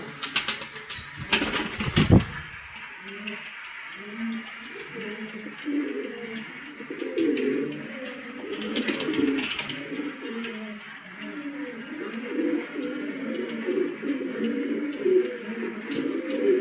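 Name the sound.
pigeons cooing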